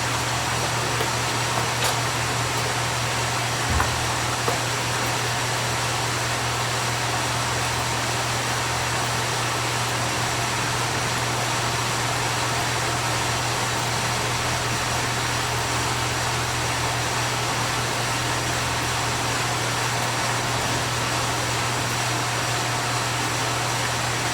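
A 1979 Chevy G20 custom van idles steadily for the whole stretch, a low constant engine hum with a faint hiss over it, even and unbroken with no revving.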